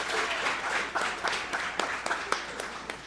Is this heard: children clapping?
yes